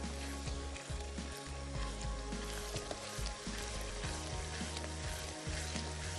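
Minced keema sizzles in a pan with ginger, chillies and coriander over a raised flame, a steady close crackle with faint scraping and mechanical clicking underneath and no one talking.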